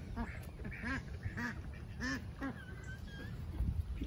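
Ducks quack repeatedly in short, nasal bursts at a moderate distance, with a steady outdoor background hum.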